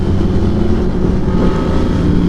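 A motorcycle with a broken, welded and rebuilt engine, a stock racing setup and a cheap Chinese exhaust, ridden with a steady, loud, continuous low engine drone that never drops away.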